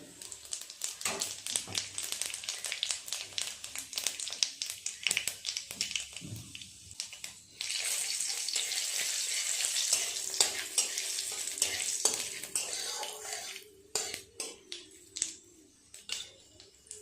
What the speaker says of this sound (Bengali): পাঁচফোড়নটা ভাজা হয়ে গেছে